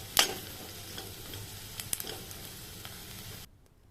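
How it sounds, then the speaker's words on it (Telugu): Drumstick pieces sizzle in hot oil with onions while being stirred, a faint steady frying hiss broken by a few sharp scraping clicks, then the sound cuts off abruptly. "సో ఇది ఒక 2 మినిట్స్ కలుపుతూ ఫ్రై చేసుకోవాలి."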